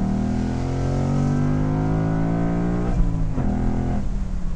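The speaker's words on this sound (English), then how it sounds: "This car revs really high" A 2018 Ford Mustang GT Convertible's V8 revs high, a steady loud rising engine note with strong harmonics held for a few seconds before shifting and fluttering near the end, heard alone without talk.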